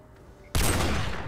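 A sudden burst of loud gunfire from Black Ops 1 with custom weapons, including a Barrett rifle and a Tokarev pistol, cuts in after a quiet half second and keeps up a dense, rumbling roar without speech.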